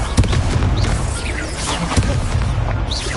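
The Confringo fire spell explodes in the Hogwarts Legacy video game: deep booms and bursts thud in quick succession over a dense, continuous wash of game combat noise, with faint whooshing effects mixed in.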